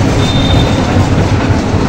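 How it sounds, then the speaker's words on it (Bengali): A moving train rattles along its tracks with a loud, continuous close rumble and clatter, heard from on board with no talking. "আমরা এটা ট্রেনে উঠছি।"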